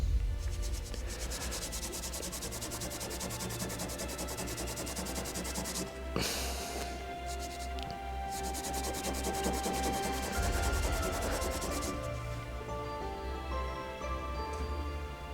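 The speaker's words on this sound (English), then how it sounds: "Perhaps I'll try buffing it up on this bit of towel." An object is buffed on a piece of towel, a continuous close rubbing and scrubbing sound with a steady rhythmic texture and a brief knock partway through, no voices.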